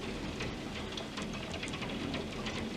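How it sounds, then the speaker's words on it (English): Steady rain and hail pour down through a thunderstorm in Leicestershire, England, a dense continuous hiss with scattered sharper impacts and a low rumbling bed throughout, with no talking. "the hail's not letting up"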